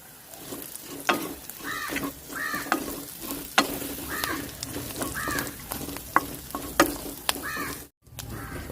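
Curry leaves sizzle and crackle in hot oil in a pan of masala for a tomato roast, a steady loud frying hiss with stirring scrapes and occasional sharp pops throughout.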